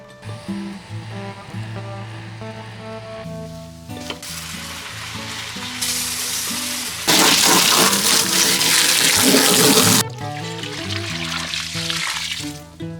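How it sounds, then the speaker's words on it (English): Garden hose water spraying onto a compost mix, a broad hissing rush that swells louder in the middle and then eases, close and fairly loud, over a low steady background. "now I'll go grab the hose and hose this thing down"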